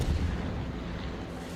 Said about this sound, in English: There's the rockets.